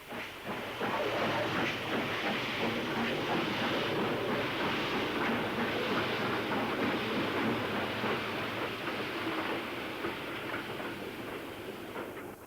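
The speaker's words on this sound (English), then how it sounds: "73073 emerges from the cavernous depths to run light to Patricroft Shed." Steam locomotive 73073 running light out of a cavernous station toward Patricroft Shed, a steady loud rushing roar of steam and motion that holds for the whole stretch with no voices over it.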